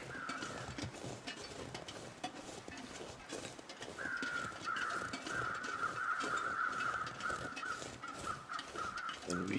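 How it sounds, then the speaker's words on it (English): Several crows caw repeatedly in the video game The Long Dark against a steady ambient background, harsh calls overlapping and continuing throughout, fairly close and prominent. "So as we can hear, there's crows everywhere."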